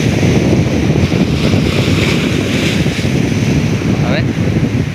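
Wind-driven sea waves wash and roar loudly at a boat, a dense continuous surge mixed with heavy wind buffeting on the microphone.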